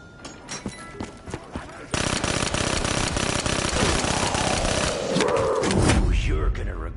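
A small machine gun in Call of Duty Black Ops 3 fires in a long, rapid, loud burst of close rattling shots after a few scattered thuds, with a voice speaking around it.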